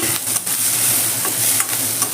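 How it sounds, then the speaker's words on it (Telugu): Sliced capsicum and onion sizzle steadily in a pan for a methi paneer masala gravy, with a few soft scrapes of stirring breaking through the continuous frying hiss. "ఇది కాస్త వేగాలి, టైం పడుతుంది, వెయిట్ చేద్దాం"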